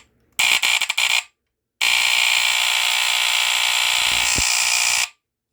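A vintage FireX FX1014 smoke detector sounds its piercing test alarm, first in a short stuttering burst of about a second, then after a pause in a loud continuous blare lasting over three seconds.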